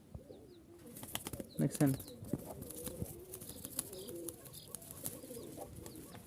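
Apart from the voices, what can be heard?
Giribaz pigeons cooing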